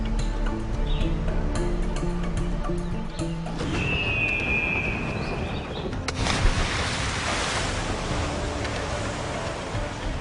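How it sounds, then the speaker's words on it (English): Ocean waves wash and roll in the Assassin's Creed 4 video game, a steady surf with wind noise, a brief whistling tone partway through and a louder rush of water near the end, without speech. "now that we're back in the ocean"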